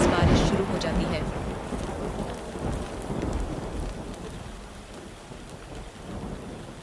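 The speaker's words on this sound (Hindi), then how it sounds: "तभी अचानक आसमान में बिजली चमकती है और तेज बारिश शुरू हो जाती है।" A heavy downpour roars steadily while low thunder rumbles, strongest at the start and fading into continuous hissing rain.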